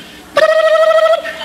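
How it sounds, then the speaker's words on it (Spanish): A mobile phone emits one sustained electronic dial or call tone, bright and steady for under a second after a brief quiet lead-in, close and clear with no talking. "Marcó el celular."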